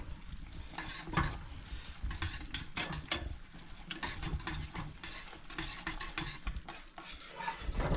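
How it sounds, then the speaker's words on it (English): A utensil stirs extra sharp white cheddar cheese into a pot of grits for Cajun shrimp and grits, making continuous close scraping and clicking against the pot under a soft simmering sizzle, with no voices. "So we're going to get that stirred up"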